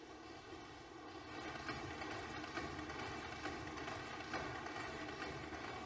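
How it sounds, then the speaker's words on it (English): A coal-powered 1894 Roberts of Nelson mill engine of 500 horsepower turns a 4-metre flywheel that drives textile looms, giving a steady, close, loud mechanical roar with a faint regular beat and no voices. "It develops 500 horsepower and it drives this 4 meter diameter flywheel."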